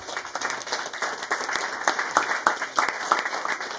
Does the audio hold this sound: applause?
yes